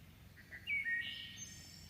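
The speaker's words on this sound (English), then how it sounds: "The hermit thrush, my favorite songbird." A hermit thrush sings a short, clear, flutelike phrase along a forest trail, faint and distant over a low background hum.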